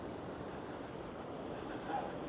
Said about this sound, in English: So now we can get very close to the River Sence here. We can just about hear it rushing by down there